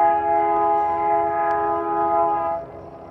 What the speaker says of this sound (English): This is like been the only train that's been coming through.